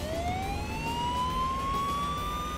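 Police car siren in the Wobbly Life video game, a continuous rising wail heard at moderate distance over a steady background rumble.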